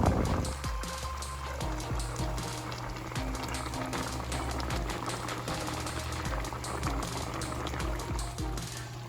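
Chicken simmering in a pan as the water reduces, with a soft, continuous bubbling and sizzle, quiet and steady throughout, broken by faint clicks and clatters.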